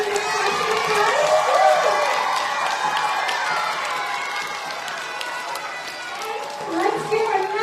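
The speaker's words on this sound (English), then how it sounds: "Can we give one big round of applause to Indigo for making this possible for us?" A school audience at an end-of-year concert cheers and shouts continuously, with children's voices prominent in a loud, sustained crowd roar that swells near the start and again toward the end.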